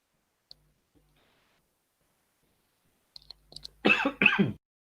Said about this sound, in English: I had some cough.